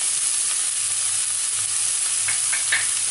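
Chopped onion, green chilli and garlic frying for vegetable upma, a loud steady sizzle with a few light stirring scrapes near the end.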